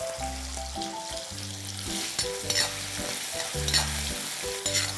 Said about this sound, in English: I'm going to saute this till the onion paste is nice and brown and oil is separated.